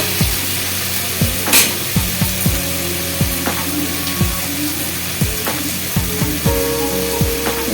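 Garlic paste being stirred into spices frying in a pan for mutton korma: steady sizzling crackle with repeated scraping strokes of a spoon against the pan at an uneven rhythm, close and fairly loud.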